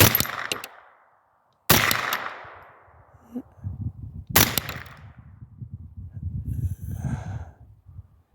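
Three loud, sharp rifle shots fired at a target 800 away through a Primary Arms 1-10x28 scope, each cracking and then decaying, with heavy breathing and rustling in between.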